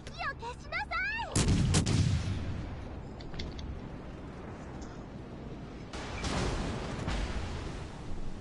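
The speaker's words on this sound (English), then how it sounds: "You have a Devonshire firing at you." Heavy naval gun salvos from the British cruiser Devonshire in World of Warships: a loud booming burst with rumbling decay, a quieter stretch, then a second sustained roar of gunfire, preceded by brief whistling chirps.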